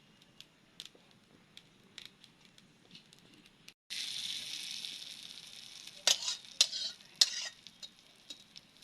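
Hot oil tempered with curry leaves hits chutney after faint clicks. A sudden loud sizzle bursts out and hisses on, broken by sharp crackling pops.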